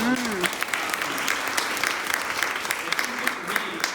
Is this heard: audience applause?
yes